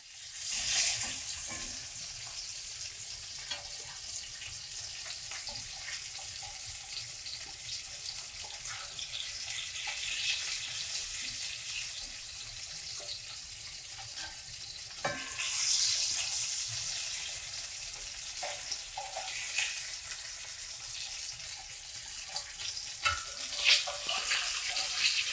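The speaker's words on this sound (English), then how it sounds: "I'm gonna wash my hands real quick." A kitchen tap runs while hands are washed, giving a steady, close, rushing hiss of water that continues for the whole stretch, with a few splashy surges.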